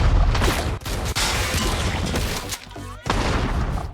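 Film gunfire as a woman shoots at a robot assassin in a Terminator movie, dense loud bursts of shots and impacts layered with dramatic soundtrack, with brief gaps between volleys.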